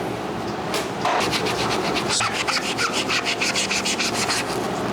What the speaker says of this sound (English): I'm gonna use a melamine foam pad, because it's gonna help with getting like these marks off right here